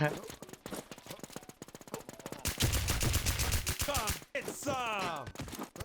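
Video game gunfire in FreekickZ, rattling automatic bursts and rapid shots in quick runs, fairly loud and close, with excited talking heard alongside the shooting.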